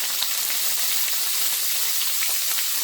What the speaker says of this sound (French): lorsque ma matière grasse est chaude, je viens tout simplement ajouter les tomates fraîches que j'ai soigneusement découpées